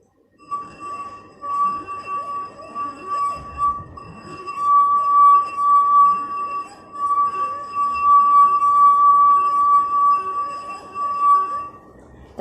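Rim of a glass three-quarters full of water being rubbed by a finger, giving a steady, clear ringing tone that sustains almost without a break for about eleven seconds, with faint room noise and handling sounds underneath.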